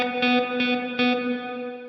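Electric guitar played through a Cornerstone NUCLEO pedal with modulation options engaged, three sustained strummed chords with a chorus-like shimmer, fairly close and moderate in level, with no voices.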